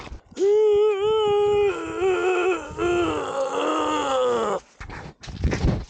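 A voice imitates the long, loud pained groan of someone who has just broken a collarbone, strained and wavering for about four seconds, then a sharp breath.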